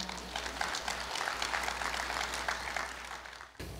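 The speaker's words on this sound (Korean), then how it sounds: "큰 박수로 환영해 주시기 바랍니다." An audience applauds at a university anniversary ceremony, with dense, steady clapping filling a large hall before it tapers off sharply near the end.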